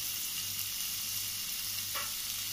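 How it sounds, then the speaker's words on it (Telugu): Carrots and curry leaves fry in a pan for mixed vegetable rice with a steady, soft, close sizzle and a brief scrape of stirring near the end. "క్యారెట్ కొద్దిగా టైం పడుతుంది కాబట్టి వేసుకొని 1-10 మినిట్స్ నీట్గా మెత్తబడే వరకు వేయించుకోవాలి"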